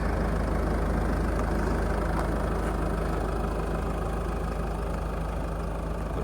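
A 2012 Range Rover Evoque 2.2 SD4 diesel idles steadily, a smooth low even hum with little clatter, close by and unbroken throughout.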